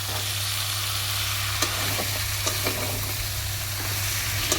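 Potatoes and chicken fry for a kosha curry in a pan, a steady loud sizzle with a few soft scrapes and clicks from stirring.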